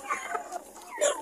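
Farm chickens clucking softly in a backyard coop, low and somewhat distant against a steady background hiss, with no talk over them.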